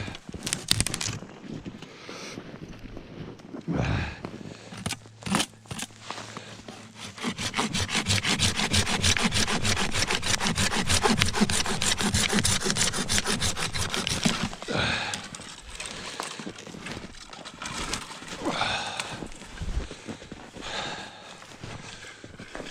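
A hand saw cutting through frozen, dense dry hardwood on a winter trail, with rapid, even rasping strokes that run steadily for several seconds, plus a few slower pulls at the start and end.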